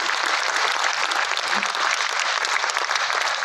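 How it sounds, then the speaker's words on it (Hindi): Loud, sustained applause from a large audience at a Hindi poetry recital, thick continuous clapping from start to finish. "एक बार जम के तालियां बजाइए"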